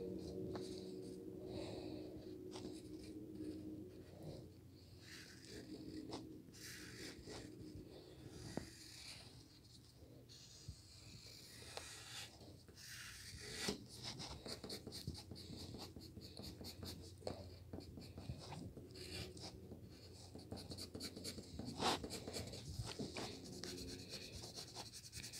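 Pen sketching stars on paper makes soft, close scratching strokes in short bursts with brief pauses between them, quiet and steady, with no talking.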